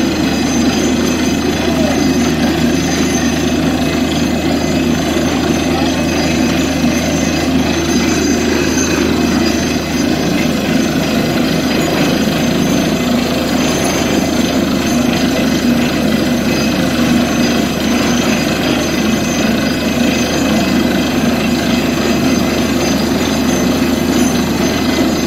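A borewell drilling rig runs continuously at an oil mill site, a loud, dense mechanical roar with steady engine drone and rattling that never lets up, with faint talk buried beneath.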